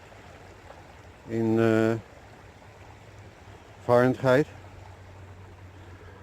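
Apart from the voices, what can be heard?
creek water flowing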